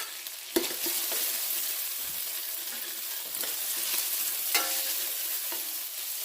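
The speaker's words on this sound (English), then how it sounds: "Now that the onions are almost translucent, we're going to stir in the garlic" Garlic is stirred into onions sautéing in a pan, giving a steady, fairly soft hiss of frying with occasional clicks and scrapes from the utensil and no speech.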